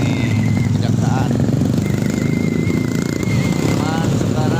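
A motorcycle engine drones steadily and loud while riding along a street in the Balena area, with continuous low rumble and wind noise and faint talk beneath it.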